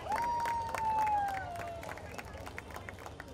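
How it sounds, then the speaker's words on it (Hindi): Festival audience clapping for a guest on stage, a dense patter of many hands that starts strong and slowly thins out, with a sustained tone ringing over the start of the applause. "जोरदार तालियां हो जाए सेजल जी के लिए एक बार."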